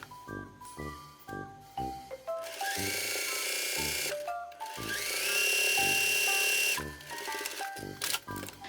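A sewing machine stitches the hem of a cafe apron in several loud, close bursts of rapid mechanical whirring, each separated by brief pauses.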